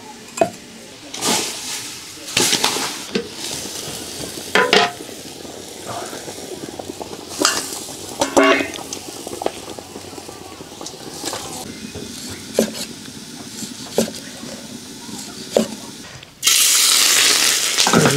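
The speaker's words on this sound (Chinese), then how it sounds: "要煎回锅肉" Twice-cooked pork fries in a pan with a steady low sizzle, broken by repeated stirring scrapes and clinks of utensil on metal, with a louder burst of sizzling near the end; people speak now and then.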